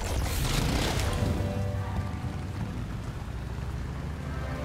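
Rain falls steadily in the survival game Once Human, a dense patter that is heavier at first and then settles into a constant, moderate hiss with no voices.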